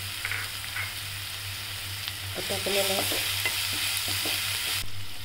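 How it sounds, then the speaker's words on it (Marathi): Ground green chili and garlic sauté in a pan for beetroot bhaji, with a steady, close sizzle broken by the scrape and clink of stirring, over a low constant hum. "हिरवी मिरची आणि लसूण वाटून टाकलं तर ते टाकूया आणि छान परतून घेऊया"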